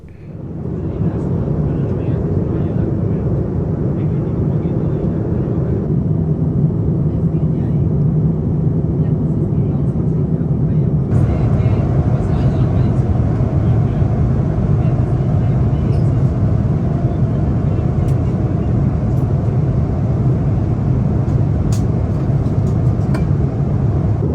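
Steady, loud broadband roar of a Wamos Air jet cabin on a night international flight from Perth to Auckland, a continuous low drone with a shift in tone partway through, and a voice speaking over it.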